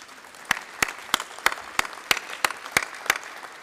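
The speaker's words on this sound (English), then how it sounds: "a big round of applause for everybody at BTA" Audience at an artificial intelligence conference clapping in unison, about ten sharp, evenly spaced claps at a brisk steady rhythm, moderately close with little else around them.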